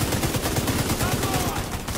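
Rapid automatic fire from an enemy turret in The Division 2, a steady, dense burst of shots rattling continuously for a couple of seconds, loud and close in the game mix.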